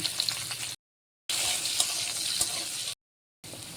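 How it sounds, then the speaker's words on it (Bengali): Carrots sizzle in hot oil in a pan, a steady bright hiss broken by two short silent gaps, close and fairly soft. "গাজর ভালো করে ভেজে নেব।"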